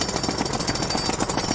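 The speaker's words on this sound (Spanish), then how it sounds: "Hoy presentamos el taladrador." A jackhammer-like drilling machine hammers in a fast, steady, loud rattle that continues without a break.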